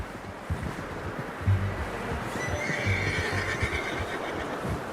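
A horse neighs in a drawn-out whinny in the video game Red Dead Redemption 2, heard moderately close over a constant wash of ambient noise, with some low snorting and shuffling beforehand.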